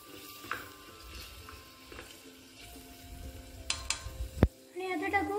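Garlic and ginger sizzle in a pan for paneer pulao, with a spoon scraping and clinking against the metal in irregular strokes, close and fairly quiet.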